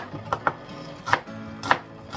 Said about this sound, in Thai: หลังจากนั้นก็หั่นหอมนะคะ